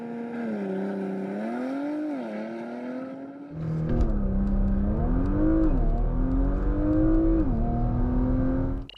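A 2022 Porsche Macan GTS with a gasoline engine accelerates hard from a standstill, its engine note climbing through rising revs with brief dips at each gear change, loud and close inside the cabin.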